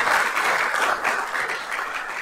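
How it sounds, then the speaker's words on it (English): Audience at a council meeting cheering and clapping steadily, a dense, fairly loud wash of applause with no talk over it. "I love that cheering section."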